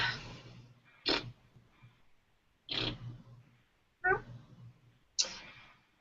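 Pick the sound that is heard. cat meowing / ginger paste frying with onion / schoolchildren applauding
cat meowing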